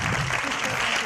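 A brief burst of dense audience applause in a television studio, loud and close, a rapid wash of many hands clapping at once.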